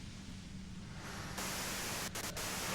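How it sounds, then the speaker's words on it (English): Steady broadband white-noise hiss from the video game Disco Elysium, rising slightly in level partway through and running continuously with brief dips near the end. "you can do it through the white noise."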